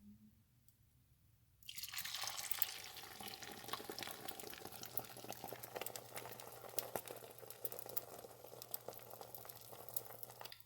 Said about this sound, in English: The temperature is enough to fry the eggs.